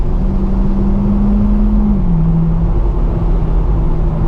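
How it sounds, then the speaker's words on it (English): A 2012 Corvette C6 Grand Sport 4LT Centennial Edition engine drones loudly and steadily while driving in tall gearing, its pitch stepping down midway as if easing into engine braking, with road rumble underneath and no talking. "They got a really good sound to the engine."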